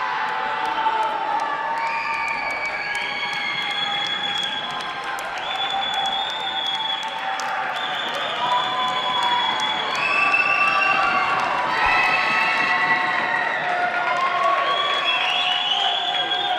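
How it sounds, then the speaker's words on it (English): Crowd at a girls' high school basketball game between Dartmouth and Durfee cheering loudly and steadily, with shouts, whoops and high children's voices layered over a continuous roar that swells in places. "Crowd getting loud."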